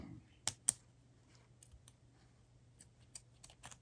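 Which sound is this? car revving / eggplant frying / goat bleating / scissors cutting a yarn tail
scissors cutting a yarn tail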